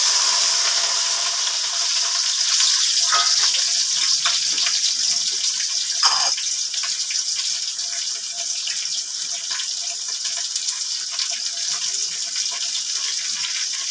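Garlic and chopped onion fry in a little oil in a home kitchen pan, giving a steady, fairly loud hiss that runs unbroken with no talking.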